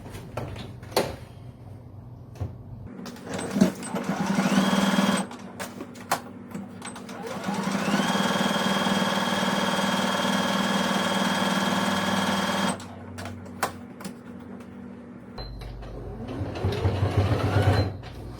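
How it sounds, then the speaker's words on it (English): A sewing machine runs in several bursts while joining the fabric of a coffee cup cozy, a steady mechanical whir with a rising hum, stopping and starting again, close and fairly loud. "So now we're going to go to the sewing machine and join this together."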